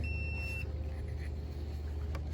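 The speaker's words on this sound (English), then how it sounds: "And it makes a beep noise and the 4 blue lights go on." An Aiper Seagull 800B robotic pool vacuum cleaner for above-ground pools gives a short, faint, high electronic beep as it switches on, followed by a low steady hum.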